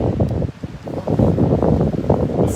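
Wind buffets an outdoor microphone in a continuous, loud, low rumble with gusty swells and no break.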